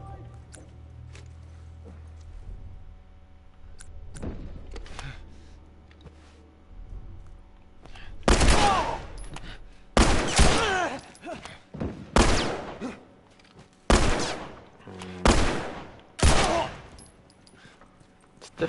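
Gunshots in The Last of Us, several loud, sharp single shots and short bursts following a quieter stretch, close and punchy, separated by brief gaps.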